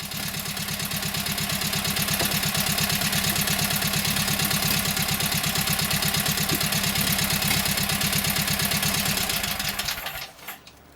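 A Kohler KT17 twin-cylinder engine, its governor previously lost, runs with a loud, steady, rapid chugging close by, then is shut off near the end, its sound dropping away to quiet.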